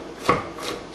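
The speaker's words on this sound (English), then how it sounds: "how to not completely take my fingers off while chopping up peppers and onions" A knife chops peppers and onions on a board, one sharp close cut followed by softer scraping, with no voice heard.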